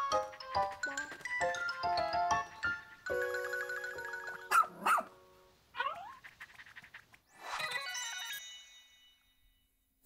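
A puppy in the video game Pikmin 4 gives a few short barks and yips amid chiming, tonal game sounds and music, with no talking.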